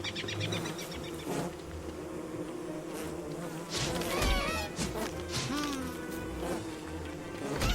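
A bee swarm in the Don't Starve video game buzzes continuously, dense wavering drones rising and falling over game music and effects, with a few sharp hits mixed in.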